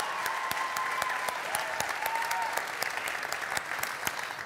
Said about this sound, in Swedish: Ska vi ge Sebastian och Emily, världens bästa ungdomspastorspar, en stor applåd?